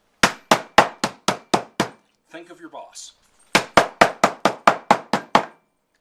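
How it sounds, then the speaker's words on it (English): Seven sharp hammer blows crack pistachios in a bag in steady rhythm, someone briefly speaks, then eight more evenly spaced whacks follow, loud and close. "So we've got some pistachios here, and I've got a hammer here, and a bag here."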